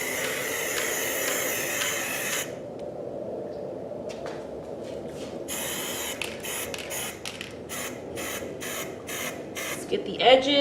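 Minwax Polycrylic clear satin finish sprayed onto painted furniture, first a long continuous hiss, then a series of short rhythmic spray bursts, close and fairly loud.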